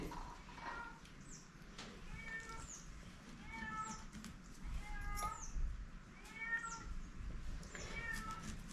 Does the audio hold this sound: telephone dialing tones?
no